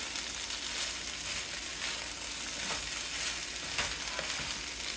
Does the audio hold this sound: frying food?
yes